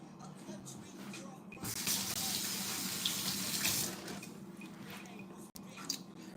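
Kitchen tap water runs strongly for about two seconds as food is rinsed under it, a bright hissing splash that stops abruptly, surrounded by quieter handling sounds and faint background speech.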